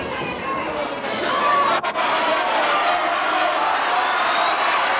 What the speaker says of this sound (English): And you can hear what the crowd think about it.